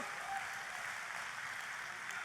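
Church audience applauding enthusiastically for God during a sermon, a steady, even wash of clapping heard at a slight distance and fairly quiet throughout.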